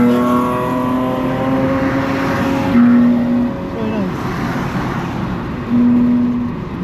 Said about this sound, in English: Oh, there's a train of very fast cars.